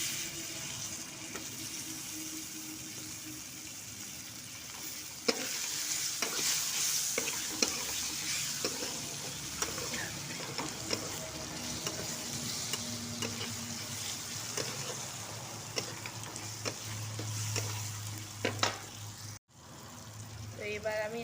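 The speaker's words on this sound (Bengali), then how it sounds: "এটা তেলে ভালো করে নেড়ে নিতে হবে হলদি আর লঙ্কাটা" Turmeric and chili stirred through hot oil in a pan, a steady sizzle with scraping spoon strokes and occasional clinks, a voice talking now and then over the cooking.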